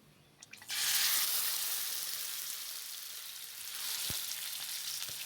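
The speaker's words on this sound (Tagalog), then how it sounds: "I need to pan fry this one first, the chicken breast." Marinated chicken breast, sliced thin with pepper, teriyaki sauce and garlic powder, hits a hot pan and bursts into a loud, close sizzle that settles into steady frying, with a single sharp tap partway through.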